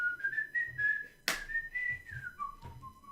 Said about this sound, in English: I start whistling Peter and Wolf.